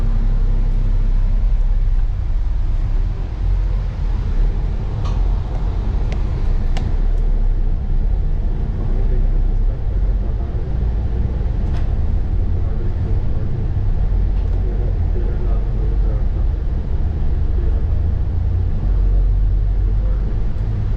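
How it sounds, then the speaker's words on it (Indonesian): Steady low engine rumble of a Rapid KL city bus in Kuala Lumpur pulling away, a continuous loud drone running throughout with a few faint higher clicks and tones above it. "Dear passenger, we will depart to your destination."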